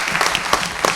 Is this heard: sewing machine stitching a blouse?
no